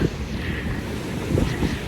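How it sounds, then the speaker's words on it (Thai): Steady wind buffeting a microphone with a broad wash of sea waves underneath at a beach in Thailand, continuous and fairly loud, no voices. "ถึงทะเลสักที"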